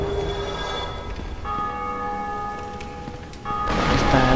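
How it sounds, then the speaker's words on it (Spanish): A church bell in the Dark Souls parish area rings with long sustained metallic tones that hum and decay, then a fresh strike swells louder near the end over low game ambience. "alguien más tocó la campana"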